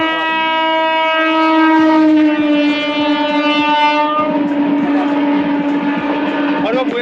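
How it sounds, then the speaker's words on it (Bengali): Two trains racing side by side at high speed on a busy rail line on the way to the Khirai flower fields. Loud, sustained horn-like tones ring out, then give way to a close rushing rattle and rumble. "দেখি দুটো ট্রেন রেসারেসি করে খুব স্পিডে আসছে।"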